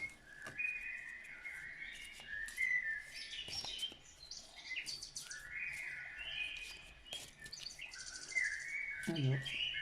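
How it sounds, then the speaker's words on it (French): Birds sing outdoors in a continuous chorus of bright chirps, trills and whistled phrases at moderate distance, faint background noise underneath and no clear talk. "J'espère que le chant des oiseaux n'est pas trop fort."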